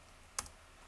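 A single quiet keyboard click, one short sharp keystroke sounding alone against faint room hiss, soft and close.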